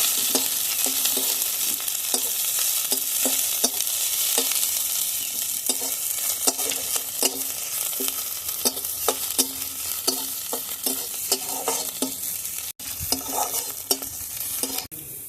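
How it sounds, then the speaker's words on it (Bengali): Chopped onion and garlic fry together in oil for a bean bhorta, a continuous crackling sizzle broken by frequent rhythmic scrapes and knocks of a spatula against the pan, close and without speech. "পেঁয়াজ রসুন একসঙ্গে ভেজে নেবো"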